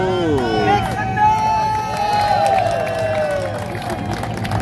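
A street-performance crowd at night on a city sidewalk near Times Square cheers and whoops, with loud voices and whistles over a dense hubbub of people.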